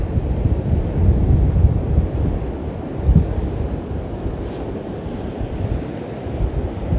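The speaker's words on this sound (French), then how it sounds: "Là, il y a du vent. Il y a beaucoup de vent" Strong seaside wind buffets the microphone in a steady low roar, with surf washing underneath and a few heavier gusts, and no one speaking.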